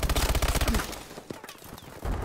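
Rapid automatic gunfire in Call of Duty: Advanced Warfare, a dense burst of close shots for almost a second, then scattered distant shots and a fresh burst at the end.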